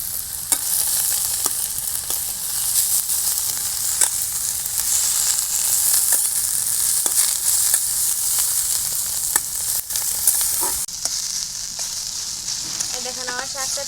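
Shanti saag greens with turmeric frying in a pan, a steady close sizzle and hiss throughout with occasional stirring scrapes and clinks.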